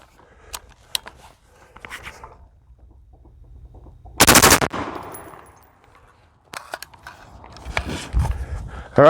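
Gunfire from a 9mm MP-5 submachine gun and an AR rifle on a range, loud sharp shots in a dense burst midway and more scattered cracks later, with quiet pauses and faint movement between.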